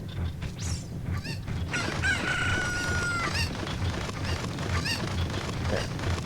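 Cucco chickens in The Legend of Zelda: Ocarina of Time squawk and crow in repeated harsh, rooster-like calls over a steady game background, loud and close with no talking.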